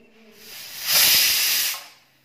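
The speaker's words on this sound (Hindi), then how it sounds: "विसल हो गई है, अब गैस को बिल्कुल कम कर देंगे" Pressure cooker whistle on a gas stove while white chickpeas boil, a single loud hissing blast of steam that swells, holds for about a second and then fades, with no talk over it.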